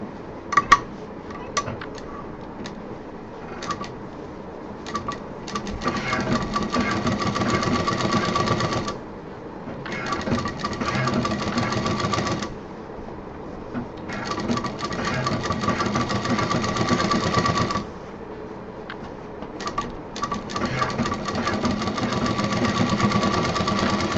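A sewing machine stitches fabric for a clutch potli bag, running in several bursts of rapid mechanical whirring and ticking, separated by short pauses.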